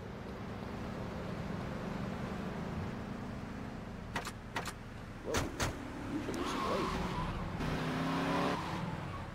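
Car driven in the video game Grand Theft Auto: Vice City, a continuous engine drone with several sharp bursts and tire skids midway, then the revving engine swells toward the end.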